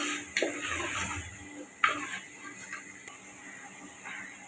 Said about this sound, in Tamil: ஒரு 3 நிமிஷம் வதக்கணும்.